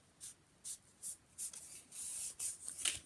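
Paper being folded and burnished for a handmade autumn memory book: quiet, close, brisk rubbing strokes come in short separate bursts, then run together into longer scrapes.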